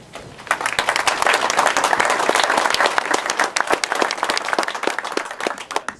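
A crowd at an outdoor ferry launch gives a loud, sustained round of applause for the Secretary of Transportation, with dense overlapping claps that swell quickly and hold steady before thinning out near the end.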